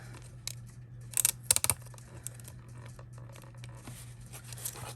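Scissors snipping through material for a Dollar Tree DIY Santa cam craft, a few quick close crisp cuts clustered together over low background hum.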